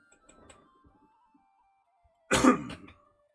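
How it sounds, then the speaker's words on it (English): A single sharp, close cough bursts out after quiet murmuring and faint background noise, brief and loud, then quickly dies away. "I coughed, damn it."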